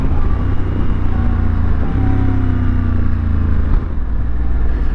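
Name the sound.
Honda Africa Twin motorcycle upshifting with DCT transmission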